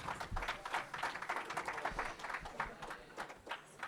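Audience applause at an innovation award ceremony, with uneven, moderately quiet clapping from a modest crowd that rises and falls in bursts.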